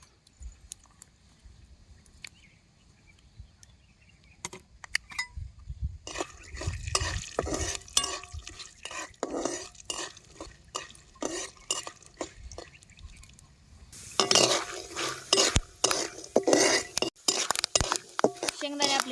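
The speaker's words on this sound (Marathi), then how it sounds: "पोह्याला शेंगदाणे अगोदर तळून घ्यायचे" Peanuts fry in hot oil, sizzling and crackling in a pan with sporadic metallic stirring clatter, growing busier and louder toward the end; no talking.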